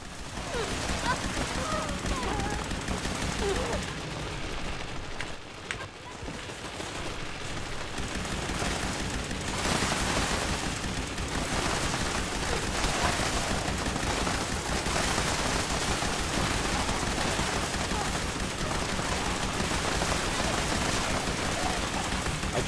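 Fallout 76 gunfire keeps going in long rapid volleys with the trigger held down, a dense and steady rattle with a short lull early on before it picks up again.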